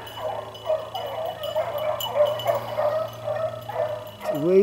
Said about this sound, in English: He done made them hound dogs mad